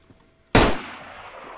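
A single loud gunshot from the DayZ video game cracks out sharply after a quiet start, followed by a decaying echo tail.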